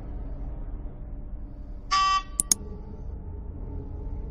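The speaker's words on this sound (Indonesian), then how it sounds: "Ia membunyikan klakson menyapaku." A short, nasal motorcycle horn honk rings out over a low idling engine rumble, followed by a couple of quick clicks.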